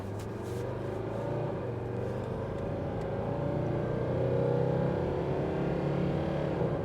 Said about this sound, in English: for this test, I'm going to put it down into low, and then I'm going to put it back up into drive so it starts out in first gear.